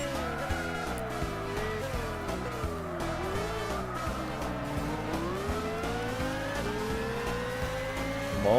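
A Subaru's engine drones and revs steadily in Gran Turismo 6, climbing and dropping through gear changes with a continuous loud tone and faint tire noise throughout, and no talking.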